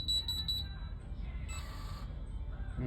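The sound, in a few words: electronic door lock beeping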